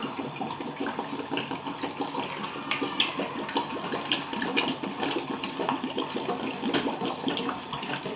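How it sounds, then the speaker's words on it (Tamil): Water, about 800 ml, poured steadily into a pot while making dragon fruit jelly, a continuous splashing, gurgling stream close by that lasts several seconds. "இதில் ஒரு 800 ml தண்ணி இருக்குது, அதை ஆட் பண்ணிக்கிறேன்."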